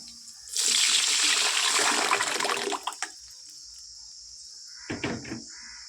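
Spinach is dropped into hot oil for tempering and sets off a loud, hissing sizzle that fades after a few seconds, followed by a brief second crackle of frying.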